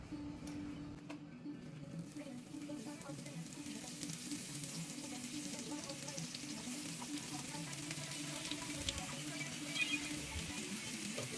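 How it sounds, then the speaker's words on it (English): Sliced potatoes for fondant potatoes sizzle and fry in hot oil in a cast iron skillet, a continuous close crackling hiss that builds slightly louder over time, with a few faint clinks. "I'm gonna start to place the scallop potatoes into the cast iron skillet"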